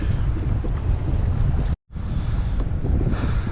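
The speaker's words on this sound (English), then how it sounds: "if you're gonna fish in like wind like this in a kayak" Strong wind buffets the microphone while fishing for fluke from a kayak off Long Island, a steady broadband roar with water and wave wash underneath, broken by one brief silent dropout midway.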